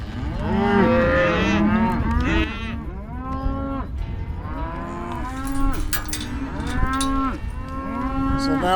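Cattle moo loudly and repeatedly as cows and calves are gathered, many overlapping calls from several animals near and far, continuous throughout with no talk.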